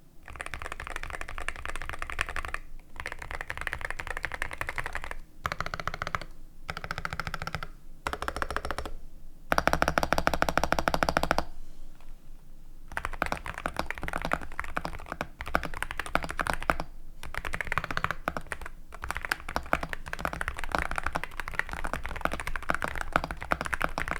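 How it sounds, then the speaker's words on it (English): Rapid, steady clacking of a CIDOO C75 Hall Effect mechanical keyboard with Prelude switches and an aluminum case, close and continuous with brief pauses, including a burst of faster key presses midway. "you can hear this keyboard and the prelude switches as well as the aluminum case"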